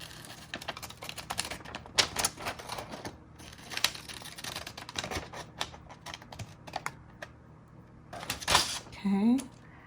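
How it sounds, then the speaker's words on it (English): Pinking shears trim a piece of tracing paper with a run of quick, crisp snipping clicks, close and fairly quiet, while a voice talks. "we're going to cut just this piece here, or trim it rather, I should say, with the pinking shears"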